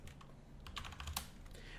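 Someone types quickly on a computer keyboard, and the keys clatter in uneven bursts up close in a quiet room.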